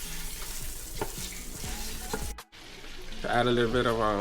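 Butter melting and sizzling in a pan with sautéed garlic for a buttered salted egg crab dish, a steady close frying hiss with stirring clatter, broken by a brief pause before a voice talks over the sizzle.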